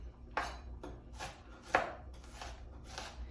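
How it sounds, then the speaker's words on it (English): An onion being chopped with a knife on a cutting board, a run of about six uneven crisp chops with two louder strikes, close and quiet, no voices. "you can go ahead and just kind of chop it up as small as you'd like"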